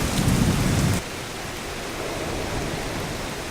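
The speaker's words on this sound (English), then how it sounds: "the storm that's coming through has been upgraded from a tropical depression to a cyclone" Heavy tropical storm rain in a beachside jungle in Mexico makes a dense, continuous roar, with a deep rumble of thunder fading out in the first second.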